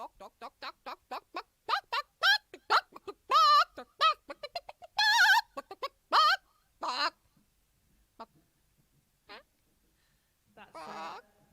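A person imitates a chicken during a song: a run of short, rhythmic vocal clucks building to louder, drawn-out squawks, then sparse scattered clucks and a final burst, close and dry.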